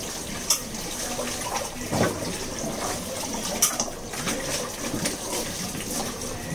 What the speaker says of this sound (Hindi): मैं आते के साथ ही सारा सामान धो रही हूँ, देखो केले काले सब धो रही हूँ।